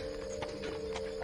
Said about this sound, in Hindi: घोड़ा गाड़ी कौन हो सकता है?